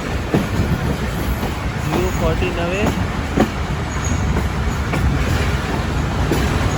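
The Awam Express stands at a railway station, giving a steady, loud rumble of idling train and platform noise with faint squeals and occasional clanks, while people talk nearby.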